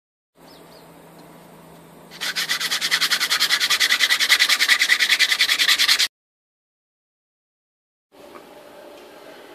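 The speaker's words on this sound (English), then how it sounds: "that's the sanding all done" Rapid rhythmic hand sanding of dart parts scrapes back and forth for a few seconds, loud and close, then stops abruptly into silence before faint background noise returns.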